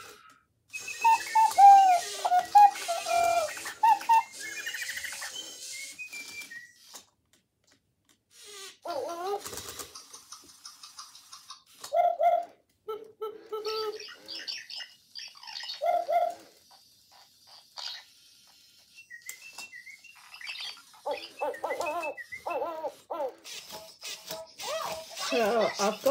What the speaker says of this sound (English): show Hedwig listening to the Cleverkeets and giving happy noises back